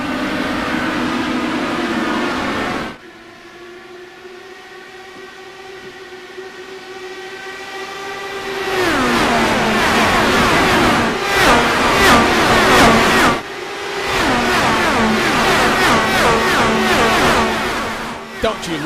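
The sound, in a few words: Dallara IR18 IndyCar engine at full power in racing video game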